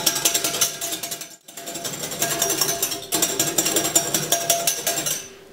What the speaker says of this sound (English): after about a minute or so of whisking, your egg white will kind of look like this